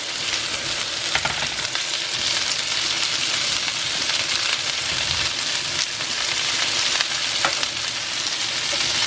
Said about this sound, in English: Now I'll take the 6 cups of squash, put them into the pan with that butter.